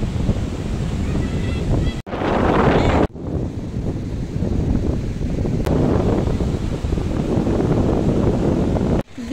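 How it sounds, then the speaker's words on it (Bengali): Sea waves break on Puri beach at night, a continuous loud roar of surf mixed with heavy wind buffeting the microphone, with brief dropouts and no clear talk. "এখানে সমুদ্রে যে ঢেউগুলো আসে, আওয়াজগুলো কানে এত ভালো লাগে"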